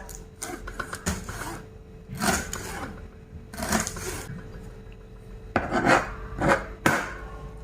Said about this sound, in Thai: หั่นใบมะกรูดค่ะ